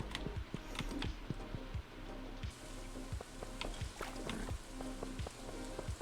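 Steady patter of rain in the farming video game Stardew Valley, a continuous soft sizzling hiss with scattered droplet ticks, mixed with game music and light repeated effect sounds throughout.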